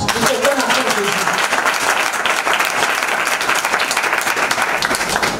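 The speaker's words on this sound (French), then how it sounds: "Acclamons pour Jésus." Church congregation applauding for Jesus, steady dense clapping from a large crowd throughout, loud and close, with a voice briefly audible at the start.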